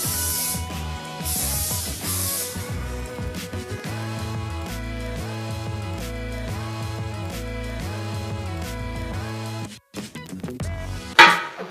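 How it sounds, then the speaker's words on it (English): Cooking spray hisses onto egg rolls in an air fryer basket in two short bursts near the start, followed by clinks and handling noises in a kitchen. "I'm going to spray on one side, then spray on the other side."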